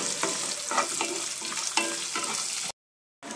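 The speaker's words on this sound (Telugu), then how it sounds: "ఇప్పుడు కట్ చేసిన ఉల్లిపాయ ముక్కలు వేసుకొని వేయించుకోవాలి" Chopped onions sizzle in hot oil with green chillies in a pan for foxtail millet upma. A steady frying hiss runs under close, repeated stirring scrapes, then briefly cuts out.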